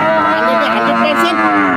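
A dairy cow gives one long, low, steady moo from close by, filling the whole moment.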